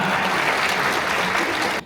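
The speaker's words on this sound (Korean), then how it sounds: "여러분들 박수 부탁드리겠습니다" Dense, loud applause from a crowd of wedding guests after the bride and groom bow to each other, a steady wash of many hands that cuts off sharply near the end.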